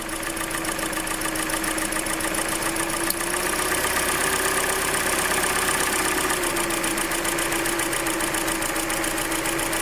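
A Hyundai Elantra engine idles with a steady hum and a fast, regular ticking knock, close and continuous, with a brief deeper dip in the middle as the revs drop.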